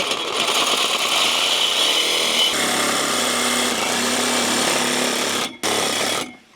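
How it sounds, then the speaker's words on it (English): A loud, steady roar of a blower clearing aluminum dust off a wooden deck during railing work, running close and continuously before cutting out briefly and then fading. "Grab the blower."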